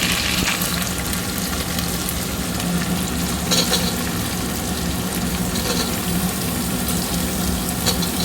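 Onions added to a hot pan with curry leaves while making poha, giving a loud, steady, close sizzle with a dense crackle that runs the whole time, and no voices.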